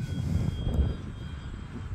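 An E-flite F4U-4 Corsair 1.2m RC model airplane flies overhead, its steady engine drone filling the air at moderate distance for a couple of seconds with no talking.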